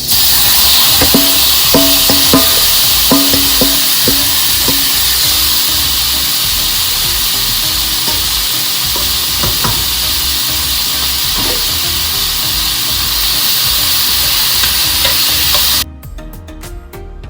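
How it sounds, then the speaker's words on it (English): Beef browning in a hot pan for stroganoff, a loud continuous sizzle with stirring scrapes and clicks near the start, cutting off abruptly near the end. "Go ahead and place your meat in here, and you're just going to brown it"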